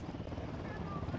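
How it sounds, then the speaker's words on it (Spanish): A steady, dense chopping drone of a helicopter in the video game Ghost Recon fills the brief moment, moderately loud and continuous. "¡Ojo, helicóptero!"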